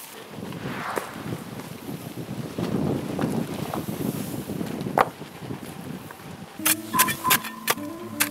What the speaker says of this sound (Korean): 바람이 너무 많이 불어 갖고 이거